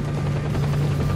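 Helicopter in the video game S.T.A.L.K.E.R. Clear Sky, a steady loud rotor thump with a droning low hum holding throughout, no talk over it.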